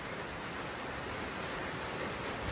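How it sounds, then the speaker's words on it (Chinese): Heavy rain pours down in Laos, a dense, steady hiss of rainfall with no break, heard alone at a moderate level. "这雨下这么大呢？"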